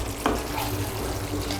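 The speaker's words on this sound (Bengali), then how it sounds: "বাড়িয়ে দিয়ে একটু নাড়াচাড়া করে নেব।" Ridge gourd curry is stirred in a hot pan over raised heat, with a soft scrape of the spoon and a low sizzle, close and brief.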